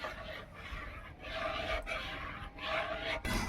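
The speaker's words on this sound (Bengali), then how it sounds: "এভাবে আমি অনেকক্ষণ ধরে নেড়ে নেবো," A spoon rasps steadily against a pan while thick semolina barfi mixture is stirred, in repeated scraping strokes, close and fairly quiet.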